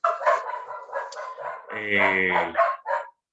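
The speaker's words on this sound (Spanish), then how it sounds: "por ahí están mis perras ladrando." Several dogs bark and yip close by in a home, in a quick burst of overlapping barks with a longer howling yelp in the middle.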